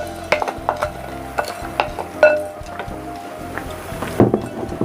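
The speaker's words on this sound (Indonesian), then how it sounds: "sambil diaduk-aduk, mengaduknya pelan-pelan saja ya teman semua, supaya berasnya ini tidak patah-patah" A spoon stirs washed rice slowly in boiling coconut milk for nasi kuning, giving soft repeated scrapes and knocks against the pot at an unhurried, irregular pace over a low simmering bubble.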